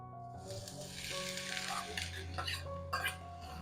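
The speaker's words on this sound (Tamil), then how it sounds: "இந்த பக்கம் குடமிளகா வதங்கிட்டு இருக்கட்டும்." Capsicum sautéing in a little oil in a pan, with a steady close sizzle and occasional scrapes and clinks as it is stirred, no talking.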